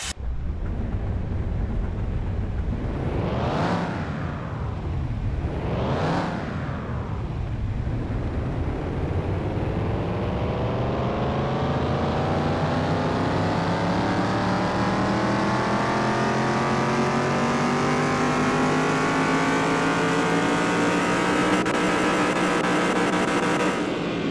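A car engine in Car Mechanic Simulator 2021 on a dyno, loud and close: two sharp revs rise and fall, then one long pull climbs steadily in pitch, with no talking.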